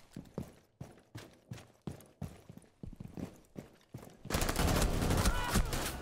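Gunfire from the video game Rainbow Six Siege: a string of sharp separate shots in uneven rhythm, then a dense loud burst of continuous firing and noise at the end.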